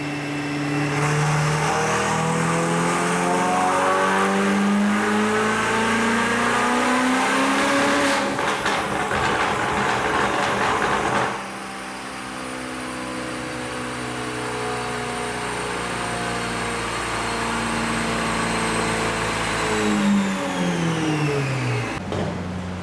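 A Ferrari 488 GTB twin-turbo V8 with upgraded turbos screams through repeated dyno pulls, rising in pitch under full load, dropping back and climbing again, loud and close inside the dyno room.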